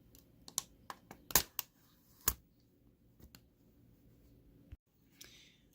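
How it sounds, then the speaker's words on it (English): A Sony Vaio laptop keyboard is pried up from its frame, producing a scattered series of sharp plastic clicks and snaps, a few louder pops among them, close and isolated against a quiet background. "And then we pry up the keyboard."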